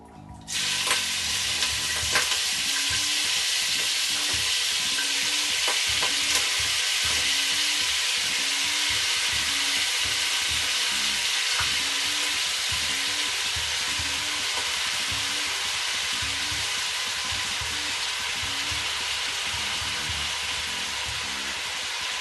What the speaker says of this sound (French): Quand l'huile sera chaude, on va juste rajouter le lambi. On va mettre notre lambi dedans et on va laisser cuire.